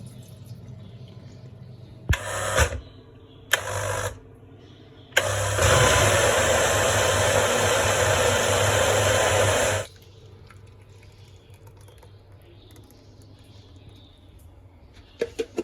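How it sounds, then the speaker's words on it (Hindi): An electric grinder works on soaked flour and oats in short bursts: two brief whirring pulses, then a longer loud continuous grind of several seconds that stops abruptly, leaving a quiet room. "हम इस पर पानी निकाल के इसको भी ग्राइंड कर लेंगे।"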